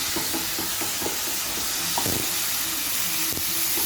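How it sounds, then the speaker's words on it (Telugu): A spoon stirs coriander and mint through a sizzling ridge gourd and capsicum curry in a pan, soft repeated scraping strokes over a constant frying hiss. "వెజిటేబుల్స్ మొత్తం ఇట్లా తిప్పేసి"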